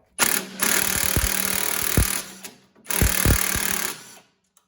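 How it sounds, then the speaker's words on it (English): An impact driver backs a nut off a shear bolt on an Ariens machine, two loud close bursts of rapid hammering rattle separated by a short pause, then silence. "And then I use an impact driver."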